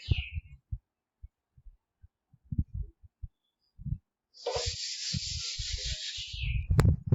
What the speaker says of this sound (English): So let us rub this out.